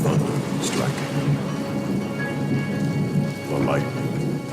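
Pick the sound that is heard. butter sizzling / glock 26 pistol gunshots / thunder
thunder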